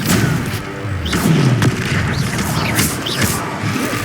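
Spell blasts and booming impacts from a Confringo fire spell in the video game Hogwarts Legacy, a steady series of dull thuds and crashes amid dense battle noise, loud and close throughout.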